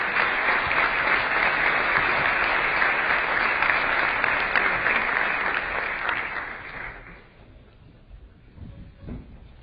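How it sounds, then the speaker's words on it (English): Sustained applause from a conference audience at an Ekoparty security talk, dense and loud clapping for several seconds before fading out into quiet room noise. "So let's give them a round of applause."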